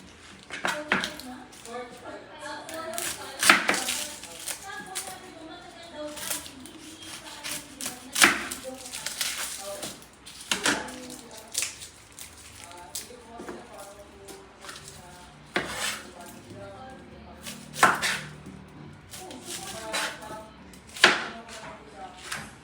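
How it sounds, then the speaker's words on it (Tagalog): Onion and garlic are chopped by knife on a cutting board: irregular clusters of sharp taps, some louder strikes standing out, with a voice present in the background at times. "Magcha-chop naman tayo ngayon ng sibuyas at saka ng bawang."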